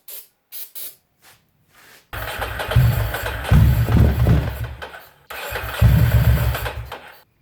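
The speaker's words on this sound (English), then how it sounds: "The engine sounded like it wanted to start with carb cleaner in the intake" Ducati Monster engine cranking with carb cleaner sprayed into the intake: a few short bursts, then two long sputtering cranking runs with rough, uneven low rumble, close and loud.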